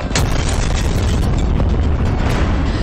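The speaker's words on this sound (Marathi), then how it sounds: "रावळपिंडीचा नूरखान एअरबेस स्फोटाने हादरला" An explosion at a Pakistani military airbase in Rawalpindi, heard as a dense, sustained rumbling roar with bursts of crackle throughout, loud and close, with no voices.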